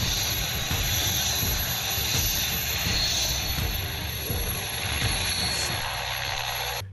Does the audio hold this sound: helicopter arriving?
yes